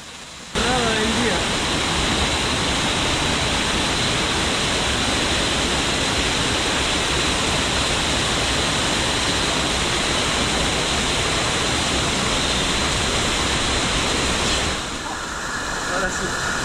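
Cascada del Indio in Valle del Lunarejo pours in a steady, loud, broadband roar of falling water, unbroken for the whole stretch and easing slightly near the end.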